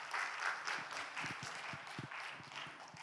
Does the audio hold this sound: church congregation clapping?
yes